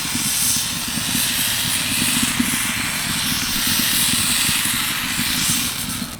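Rice flour batter for patisapta hits a hot tawa with a continuous hissing sizzle, steady and fairly loud from start to finish with no voices.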